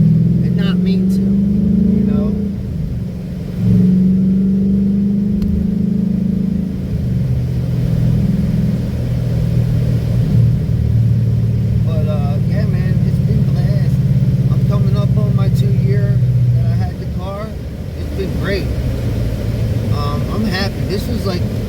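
A V8 car engine droning steadily while driving, a low rumble with slight shifts in pitch as the speed changes, heard throughout beneath someone talking.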